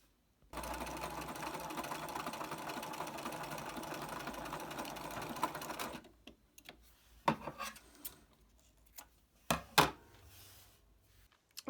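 Sewing machine stitching a zigzag seam on poly cotton scrub trousers, a steady close mechanical whir running for about five seconds, then stopping, followed by a few scattered clicks and handling sounds.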